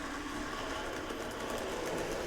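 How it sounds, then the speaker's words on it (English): A small N gauge model track-cleaning train runs past on a layout with a steady whirring motor and faint rhythmic clicking, continuous and fairly quiet. "cleaning train just going past on cleaning duties there"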